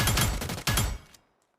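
UMP 45 submachine gun fire in the mobile game New State Mobile: a rapid full-auto burst of close, loud shots lasting about a second, briefly broken then resumed, ending abruptly into silence.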